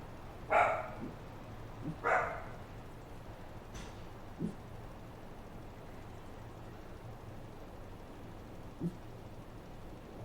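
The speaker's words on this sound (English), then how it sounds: "I've been surrounded by a pack of domesticated dogs" Domesticated dogs barking in a farming simulator game, a couple of close, sharp barks near the start followed by a few fainter, scattered yips over steady low background hum.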